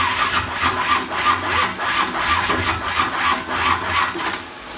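Small-block Chevy engine in a box Chevy car cranking over and firing, a steady rhythmic chugging pulse repeating about once per half second, close and moderately loud with no talk.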